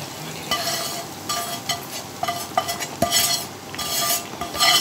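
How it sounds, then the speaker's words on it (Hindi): Tadka tempering is poured into a beef karahi and sizzles loudly, joined by repeated clinks and scrapes of a metal utensil against the pot, with no voices. "अब इसमें हम लोग ये जो तड़का बनाया था अब इसको हम ऐड करेंगे।"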